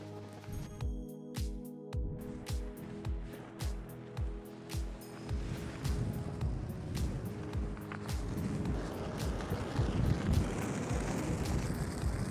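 Wind buffets across the ground at an airfield, first as rhythmic thumps like footsteps, then building into a steady, gusting roar against the microphone.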